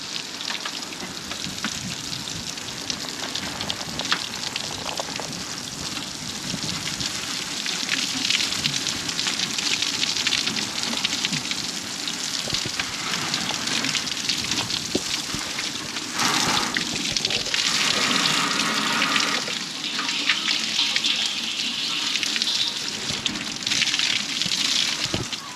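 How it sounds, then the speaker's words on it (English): Rain falls on a homemade chicken watering rig, making a steady hissing patter of drops and trickling water on surfaces, close and continuous with slight swells in intensity and no talk. "Here's the rain."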